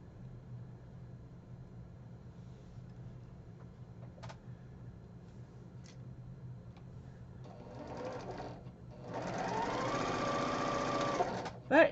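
A sewing machine stitches quilt pieces together in a steady, close whir lasting several seconds near the end, preceded by quieter handling sounds and a low background hum; a brief clunk follows as it stops.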